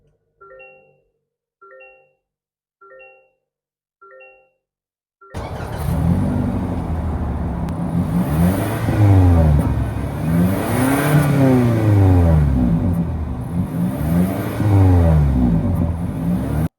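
A 2026 Toyota Corolla SE sedan sounds four short chimes, then its engine starts and runs loud and close, revving up and down in repeated rising-falling sweeps with no talk.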